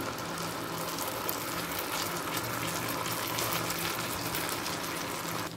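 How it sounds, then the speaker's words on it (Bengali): Water from rinsing a bowl pours into a pan of paste for a malai paneer curry, a continuous near gushing splash mixed with hiss that runs unbroken, then eases at the very end. "বাটি ধোয়া জলটাও দিয়ে দিচ্ছি।"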